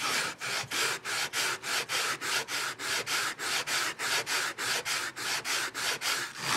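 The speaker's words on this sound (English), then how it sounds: "I'm really putting no pressure at all on this sanding board. Just letting the weight of the board do the sanding." Wood on a tenor guitar being sanded with a sanding board under light pressure, a steady rhythmic series of about twenty back-and-forth rasping strokes, close and alone.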